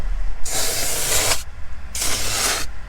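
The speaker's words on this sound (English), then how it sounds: "you can use the air compressor to get into all these seams" An air compressor nozzle blowing out the seams of leather car seats in two strong bursts of hissing air, each about a second long with a short pause between, close and loud, no voices.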